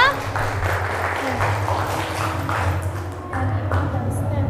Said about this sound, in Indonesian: boleh tepuk tangan buat kelompok 2